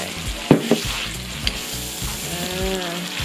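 Hulled mung beans are stir-fried in a hot pan, with a continuous sizzle, a couple of loud utensil scrapes early on and softer stirring after.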